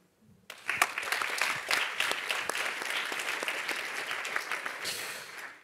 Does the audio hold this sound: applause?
yes